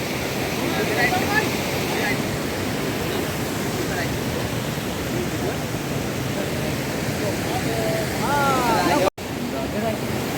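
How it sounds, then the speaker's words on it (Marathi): Steady broadband rushing of the Gad River flowing down from the Sahyadri mountains, continuous and fairly loud throughout, with a brief dropout near the end. "आणि ही आमची गड नदी सह्याद्री पर्वतरांगांच्या मधून आलेली नदी आहे"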